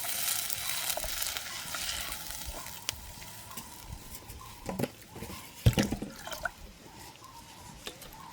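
Milk stirred into an eggplant and chickpea curry in a pan gives quiet, soft scraping and light bubbling sizzle, with a few sharper clinks near the middle. No one speaks.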